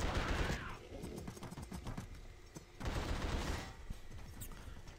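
Enemy gunfire in the horror shooter game The Suffering, rapid bursts of shots crackling over a dense, loud combat mix, with a short lull midway before the firing swells again.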